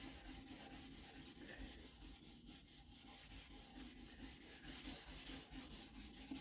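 A 2003 Ford Explorer headlight lens rubbed back and forth by hand to remove grime and oxidation, a faint, steady rhythmic scrubbing with quick repeated strokes, close up and quiet.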